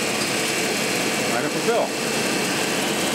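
A running engine hums steadily while a steering ram on a Cloud III boat is checked for leaks after resealing, a constant drone with someone speaking briefly over it.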